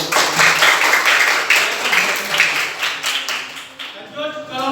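Applause from a university classroom after a student group finishes its presentation, a dense patter of clapping that thins toward the end, with voices mixed in.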